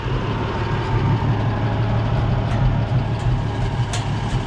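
A steady, rumbling tractor engine runs continuously nearby after baling, a low droning idle with constant texture and no talk over it.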